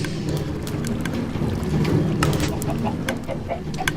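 Chickens cluck in a video game, in short, scattered calls over a constant rushing, windy background hiss; no speech is heard.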